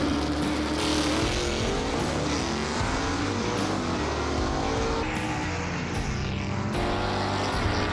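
Southeast Gassers drag race cars launch down the strip, their engines a loud, continuous roar with rising and falling pitch sweeps as they accelerate and shift, echoing over the track.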